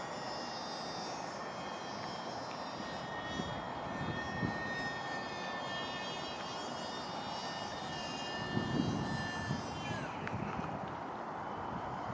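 A small fixed-wing airplane's engine drones steadily through a takeoff attempt with slight flaps, a constant loud hum with wind noise and a brief swell late in the run.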